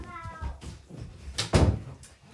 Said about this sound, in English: We have cats, sorry about that.